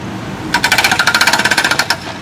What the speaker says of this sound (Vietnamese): bây giờ sẽ thử test đường búa nha anh em